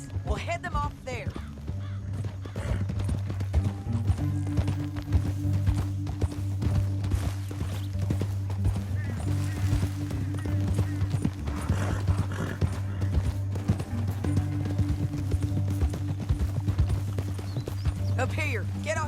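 In the video game Red Dead Redemption 2, horse hooves pound in a fast, steady gallop, close and loud under a continuous music score, with a horse snorting and characters talking over the ride.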